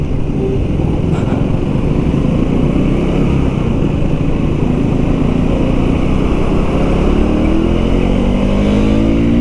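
A KTM Duke 390 Gen 3 motorcycle, fresh from its first service, revs hard toward redline. Its engine drones steadily up close, with the pitch climbing near the end and no talking.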